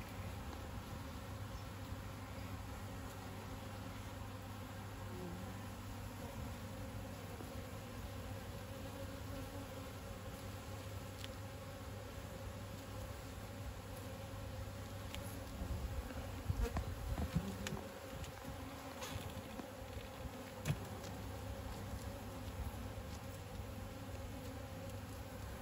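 Honeybees hum steadily in an opened hive that has swarmed, a dense, continuous buzz heard close up at low volume, with a few individual bees passing nearer and briefly louder midway.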